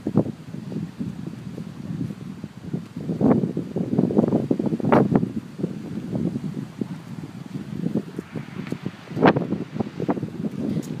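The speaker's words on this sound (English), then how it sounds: "I'm apologizing in advance for any wind." Outdoor wind on a Door County rock-face overlook buffets a microphone in uneven low rumbling gusts that swell and fade for about eleven seconds, with faint rustling in the background.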